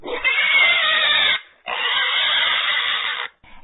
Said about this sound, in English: It now screams in fear